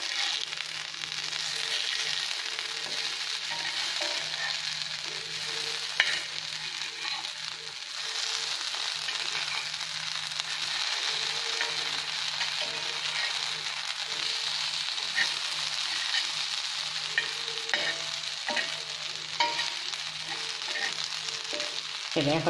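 Plantain cutlets fry in a pan with a steady, even sizzle and hiss that holds for the whole stretch, broken only by a few soft clicks.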